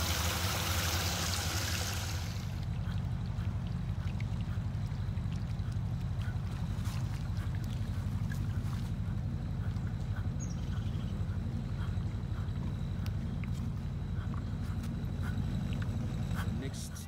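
Groundwater pouring steadily through a newly installed well-point drainage system at a building site excavation, a continuous low rushing flow that stays even throughout, with wind-like hiss at the start.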